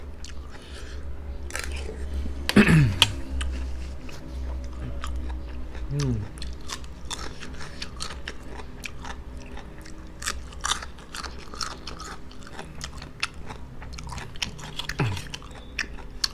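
Close-up biting and crunchy chewing while eating a Thai bamboo shoot and mushroom curry, with repeated small bites and mouth sounds over a low steady background hum and a few louder crunches.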